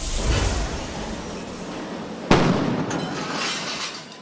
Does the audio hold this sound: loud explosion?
yes